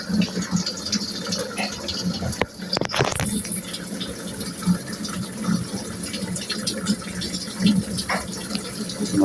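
LG smart inverter washing machine filling with water, a steady loud gushing rush of water with rattling and a brief knock partway, continuous throughout.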